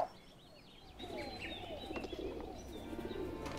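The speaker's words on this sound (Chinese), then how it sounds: "金教授经常讲了一句话，他说鸽子最大的特点是无论飞离家有多远，总能找到回家的路。" Pigeons coo softly in short, throaty phrases, mixed with a few thin chirps from other birds, fairly faint and not too close.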